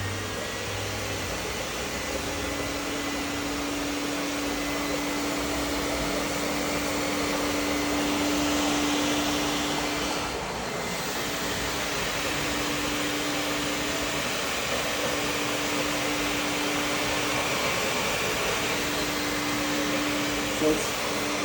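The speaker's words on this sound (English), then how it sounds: "the less time the vacuum will have to suck up the dirty water" A wet floor-cleaning vacuum runs with a steady, loud whir and airy suction hiss that holds level throughout, near and continuous with a faint constant hum beneath.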